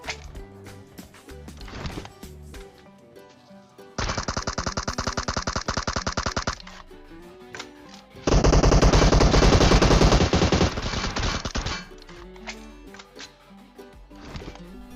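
Rapid automatic gunfire from PUBG Mobile rattles in two long, loud sustained bursts, with scattered single shots and game effects between them, close and dominant throughout without talk.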